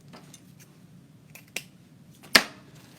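Scissors snipping through bow ribbon material, a few faint clicks followed by two distinct sharp cuts, the second louder and crisper, close by in a quiet room with no talking.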